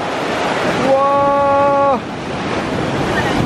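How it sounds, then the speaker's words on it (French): Rough open-sea waves and surf wash in a steady broadband roar with wind noise, while a nearby voice lets out a long drawn exclamation partway through. "Oh les vagues."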